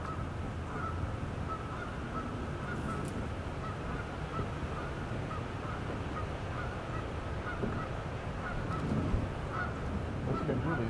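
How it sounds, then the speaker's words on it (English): Geese honk repeatedly over steady outdoor background noise in the Minnesota River bottoms, a busy flock calling continuously at moderate distance. "Geese are going crazy, Brad."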